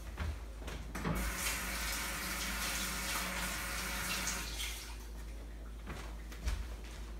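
A kitchen tap runs steadily over Fuji apples being washed, a continuous close rush of water with a few soft knocks and clunks, no talking.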